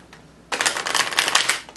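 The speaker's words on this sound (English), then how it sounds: "I want to do a couple shuffles like that." Tarot cards being shuffled by hand, a quick burst of riffling and flicking that starts after a short pause and runs steadily, close and fairly loud with no talking.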